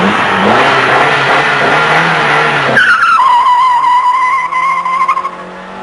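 A 1984 Ford Escort GTI-class hatchback launches hard with wheelspin, loud tire squeal and engine roar blending at first, then the engine note climbs alone as the revs rise and fades.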